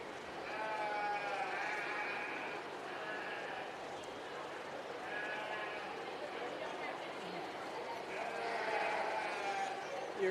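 Hampshire ewes at a 4-H fair sheep show bleat again and again in wavering cries, several overlapping calls coming in bursts over a busy barn background, moderately close.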